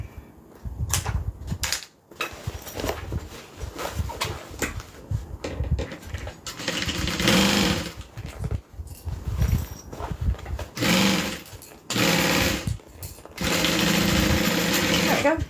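A sewing machine stitches fabric in several short, loud bursts of rapid mechanical whirring, with a person talking in the gaps and pauses between runs.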